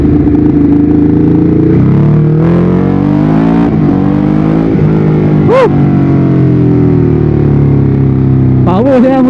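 A Ducati Hyperstrada 821 motorcycle engine roars loudly and continuously while cornering on a road in Balik Pulau, with rising and falling revs and gear changes throughout.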